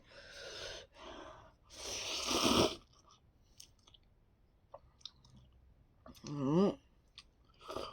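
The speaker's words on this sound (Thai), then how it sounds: "มากินให้ดูเลยแล้วกัน" Spicy Korean cheese instant noodles being eaten up close, with a few separate slurps and bursts of chewing between quiet gaps, and a short vocal sound near the end.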